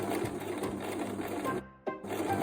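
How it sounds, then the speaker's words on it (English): A sewing machine stitches through pleated calico folds, a fast steady mechanical whirr that runs loud and close, breaks off briefly near the end, then resumes. "so that I can then sew it under my sewing machine."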